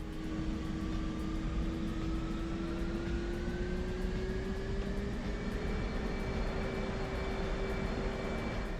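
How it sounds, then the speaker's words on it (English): A steady, loud F/A-18C jet engine drone in DCS World with a rising whine that climbs slowly in pitch as it spools up during a cold start, continuous throughout with no voices. "Now we should hear the engine start to spool up in the background"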